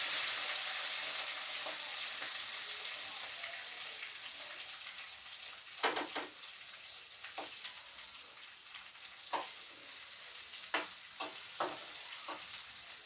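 Curry leaves and green chillies fry in oil for upma, making a bright, steady hiss and crackle that fades slightly over time, broken by occasional spoon stirs and clinks. The sound is close, and no one speaks.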